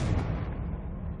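Confringo fire spell going off in Hogwarts Legacy, a heavy booming blast with a deep rumbling tail that fades over a second, loud and close with no speech.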